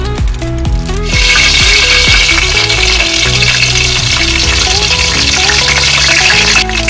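Milkfish (bangus) dropped into hot oil in a large pan, bursting into a loud, continuous close sizzle, with background music playing throughout.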